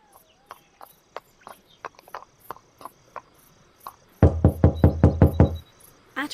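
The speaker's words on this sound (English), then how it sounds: "Nightsong knocked on the door of the library" Knocking on a wooden library door at night, a run of single knocks spaced apart, then a louder rapid burst of knocks, with crickets chirping steadily in the background.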